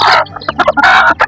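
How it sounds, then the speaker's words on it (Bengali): Chickens cluck loudly and close by in a series of sharp, uneven bursts with short pauses between them, and no talking. "মুরগি"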